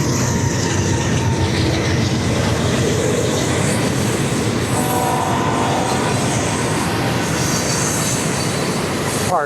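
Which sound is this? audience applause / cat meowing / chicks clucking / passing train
passing train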